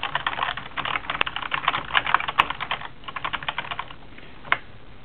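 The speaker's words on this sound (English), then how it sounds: "I can type whatever I want." Fingers type quickly on a computer keyboard in bursts of close, crisp key clicks, with short pauses and a few heavier keystrokes.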